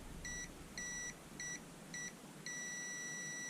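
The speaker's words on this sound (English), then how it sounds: "I bought myself a new meter that has actually got a beeper on it for continuity" A new multimeter's continuity beeper sounds a series of short electronic tones during a cordless grinder repair, five quick beeps followed by one longer sustained beep, clear against a faint background.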